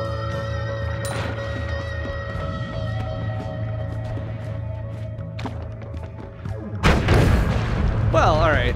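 Grenade explosions in the video game Noita: low booms rumble under a sustained game drone, then a louder, harsher blast burst near the end.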